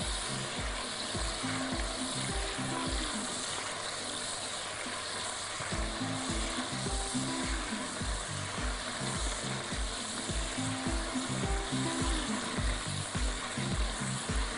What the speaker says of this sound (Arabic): اللحمه بتتحمر في السمنه